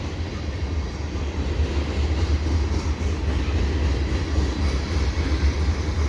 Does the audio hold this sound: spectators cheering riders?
no